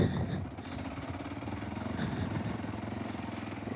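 Motorcycle ridden along a dangerous mountain road up to El Pital, El Salvador: a continuous rumbling engine drone with wind, steady and close, no talking.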